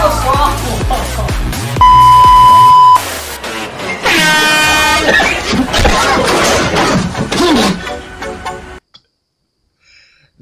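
A blast from an air horn in a prank, a loud steady tone lasting about a second, followed by a chaotic burst of screaming, commotion and thumps, with voices throughout before it cuts to silence.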